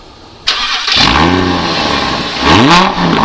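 A 2015 Audi R8 V10 Spyder starts and revs loudly up close, two rising engine sweeps climbing in pitch before settling back toward idle, with no talking.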